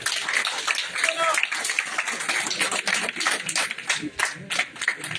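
Loud applause from the crowd at a party office welcoming a veteran leader on joining the BJP, vigorous clapping mixed with crowd noise and voices talking throughout.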